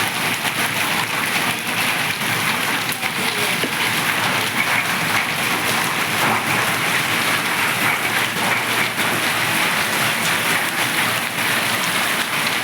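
Heavy rain with hailstones pours down steadily in Ganjam district, Odisha, a dense, constant hiss and patter on surfaces with no voices over it.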